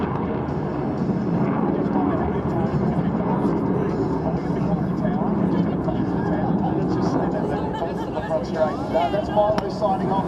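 A Royal Australian Air Force aircraft roars overhead at the V8 Supercars Adelaide 500 race, a broad sustained rumble running the whole time beneath steady voices talking.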